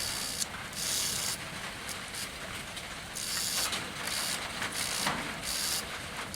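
Wheels of a Lone Star EL60 model locomotive turning, a continuous close mechanical whir and gear rattle with small pulsing changes in hiss, steady throughout.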